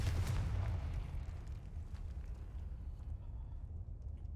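A Confringo blasting spell goes off in the game Hogwarts Legacy: a loud, deep explosive boom at the start that rolls into a long, rumbling low decay fading over several seconds, with no talk.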